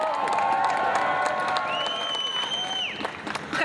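An audience applauds and cheers together at a political speech, a dense, steady wash of clapping with some whistles and shouts rising through it.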